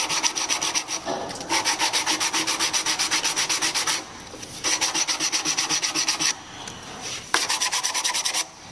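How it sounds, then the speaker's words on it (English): Used sandpaper rubs back and forth across wood in fast, even strokes, a close, rhythmic scratching that comes in several bursts with short pauses between them. "You're going to sand until you get rid of all that dirt."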